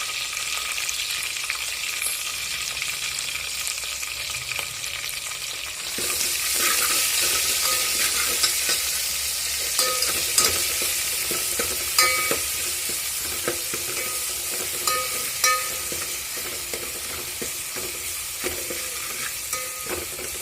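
Garlic and green chillies sautéing in a pan: a steady, dense sizzle of frying that swells after a few seconds, with occasional stirring knocks and scrapes throughout, close and continuous, no talking.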